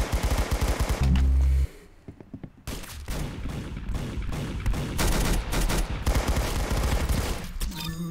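Rapid bursts of automatic gunfire in the Roblox game Arsenal, loud and dense, with a brief pause after the opening shots before the fire resumes in continuous rattling volleys.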